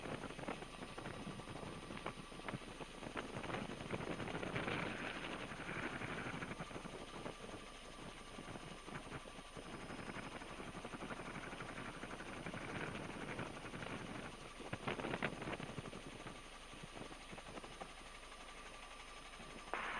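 A police helicopter flies overhead while tracking a car chase. Its rotor and engine make a loud, steady droning roar that fills the whole stretch with no pauses and no voices.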